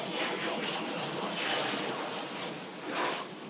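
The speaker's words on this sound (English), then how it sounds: "Fighter jet going by." A fighter jet roars overhead near Old Airport Road in Singapore, a broad steady rushing jet noise that swells and fades slightly.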